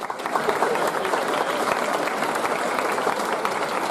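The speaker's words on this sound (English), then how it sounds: "Give these last round of applause" Audience applause at a Year 13 graduation ceremony, steady and dense clapping from a large crowd filling the whole stretch without a break.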